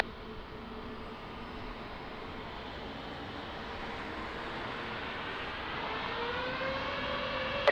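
Airliner taking off from runway 20 at Lisbon Airport: a distant, steady jet roar that swells gradually over several seconds, alone without talk.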